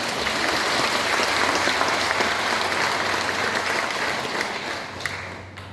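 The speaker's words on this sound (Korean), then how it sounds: "하느님께 한 박수 한번 쳐드립니다." A church congregation applauds steadily and loudly for several seconds during a Catholic mission talk, a dense wash of clapping that tapers slightly near the end.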